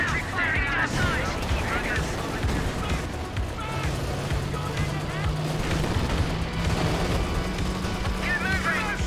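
Gunfire and artillery in a Company of Heroes 2 battle with British forces: continuous rattling shots and booms layered over vehicle engine rumble, with unit voices calling out throughout.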